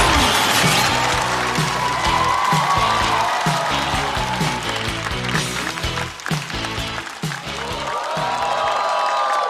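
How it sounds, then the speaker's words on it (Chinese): Sustained, loud applause from a stand-up comedy audience welcoming a comedian to the stage, with a dense wash of clapping and some cheering, while music plays underneath throughout. "掌声欢迎"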